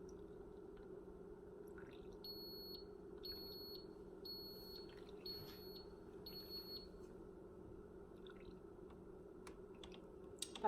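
A series of five short, high electronic beeps in an even rhythm, faint over a low steady machine hum, followed by a few soft clicks.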